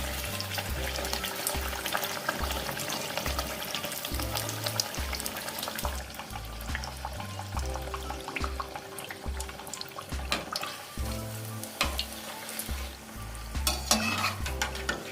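Malpua batter frying in hot oil, a continuous close sizzle and crackle with repeated stirring and scraping sounds and occasional clinks throughout.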